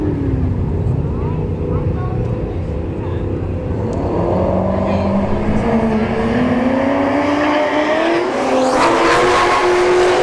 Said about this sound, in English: The A90 Supra coming up in the left lane.